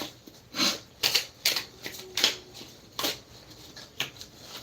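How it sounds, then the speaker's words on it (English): Crisp, close riffling snaps of tarot cards being shuffled, several quick bursts in an irregular rhythm with short pauses. "One more shuffle."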